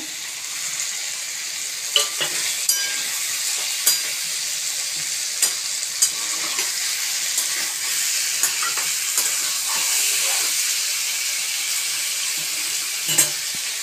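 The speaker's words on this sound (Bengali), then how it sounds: "এবার চিংড়ি মাছগুলো দিয়ে দেবো।" Shrimp frying in a pan with water lily stems, a steady bright sizzle with scattered pops and occasional clicks of stirring, close and fairly loud with no talking.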